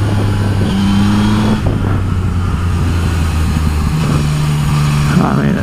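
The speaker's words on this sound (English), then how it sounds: "I hope you can hear a bit the amazing sound of the CP3 engine here." A Yamaha XSR900 three-cylinder CP3 motorcycle engine hums and revs steadily up close, its pitch rising and dropping with throttle changes, with no voices.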